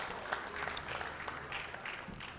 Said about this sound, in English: A hand of applause for her